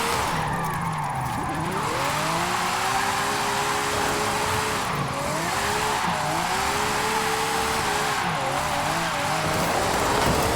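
1987 Ferrari F40 on an AWD drift tune in Forza Horizon 5, its engine droning and rising and falling in pitch while tyres squeal and skid steadily through a long slide.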